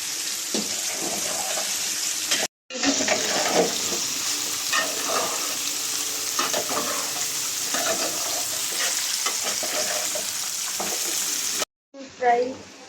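Chicken frying in a pan, a loud dense sizzle with frequent stirring clatter, briefly cutting out twice before resuming.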